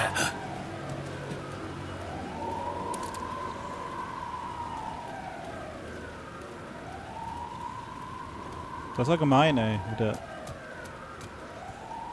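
A wailing police car siren in the video game Alan Wake 2, rising and falling in slow sweeping cycles throughout, with a steady rain-like hiss beneath, a burst of clattering action near the end and someone talking over it.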